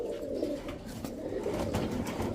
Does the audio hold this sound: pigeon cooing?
yes